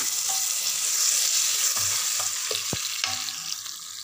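A hot tempering with turmeric is poured into cooked toor dal for a tomato dal curry, giving a loud burst of sizzling hiss with a few clanks of stirring, no talk.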